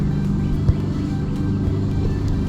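A riding mower's small gasoline engine idles steadily up close after a new fuel pump and fuel filter have gone in, a loud continuous low rumble with one brief knock partway through.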